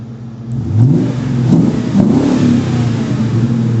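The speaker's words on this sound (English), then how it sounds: "let me give you a little engine rev." A 1960 Ford F100 pickup's V8 engine idles with a deep rumble on a cold day, then revs up several times in short blips, loud and close, settling back between each rise.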